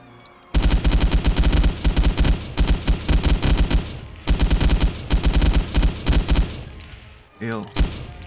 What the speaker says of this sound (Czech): Na to bude spíš na kulomet.